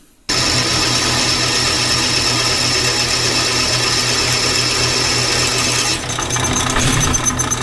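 A power drill bores a marked hole in a Caterpillar D2 crawler tractor casting, running at a steady whine for several seconds before the bit bites and chatters unevenly near the end, close and loud with no speech.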